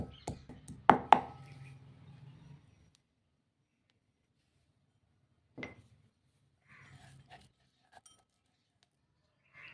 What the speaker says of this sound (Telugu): ఇవి కచ్చాపచ్చాగా దంచుకోవాలన్నమాట.